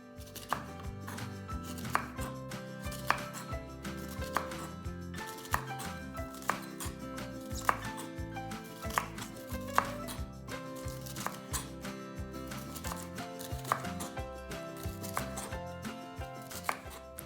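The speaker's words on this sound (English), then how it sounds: "let's cut the green beans into tiny pieces" A knife chops green beans into tiny pieces on a cutting board, making steady, rapid, crisp taps close up that continue without pause.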